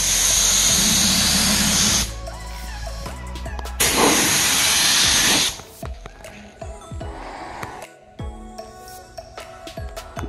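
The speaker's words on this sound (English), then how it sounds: "I use my little detail gun to actually spray these different lines here." An HVLP detail spray gun lays paint lines on a motorcycle in a garage, giving two loud, steady bursts of airy hiss separated by a pause, then quieter clicks and handling noises.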